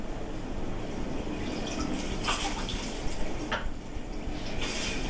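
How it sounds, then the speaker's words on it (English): Water is poured into a water bag, a steady splashing trickle that carries on without a break, with a few brighter sloshes partway through. "we're going to have to pour water in the bag"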